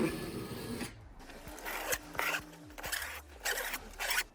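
A blade slicing through material with a quick rasping, zipper-like cut that separates cleanly, followed by a few short scraping strokes, close and fairly quiet with no talk.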